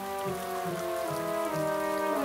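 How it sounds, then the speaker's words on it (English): Heavy rain falls steadily in a cartoon, a dense continuous patter under soft background music, with no voices. "It's raining a lot now."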